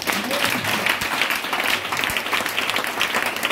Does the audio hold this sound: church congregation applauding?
yes